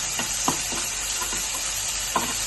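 Chicken pieces fry in a pan with capsicum and onion nearby as a pizza topping, giving a steady bright sizzle with a few louder spatters and stirring scrapes, close and moderate, with no talking.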